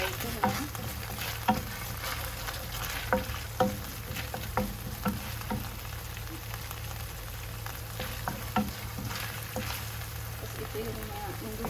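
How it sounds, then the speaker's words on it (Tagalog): Garlic and shallots sizzle steadily in a pan, with a constant close frying hiss and scattered sharp pops and spatula clicks throughout. "Yung garlic at saka yung bawang, pinagsabay ko na."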